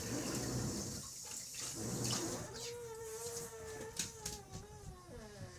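A jalapeño pepper being rinsed under a running kitchen tap, with a steady close hiss and splash of water that changes tone as the pepper is turned in the stream.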